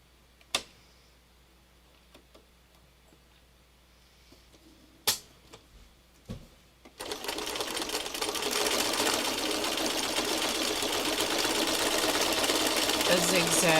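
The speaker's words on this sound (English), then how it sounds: "a zigzag, but it's a 3-step zigzag, so it's 3 steps, 3 stitches for each zig and each zag." Sewing machine sewing a 3-step zigzag stitch, starting after a few isolated clicks and thumps, then running continuously and loud with a steady whirring hum for the latter half.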